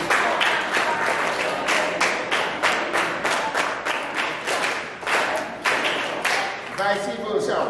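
Children at a church children's programme clap in rhythmic bursts, roughly a dozen evenly spaced group claps in quick succession, with a voice cutting in near the end.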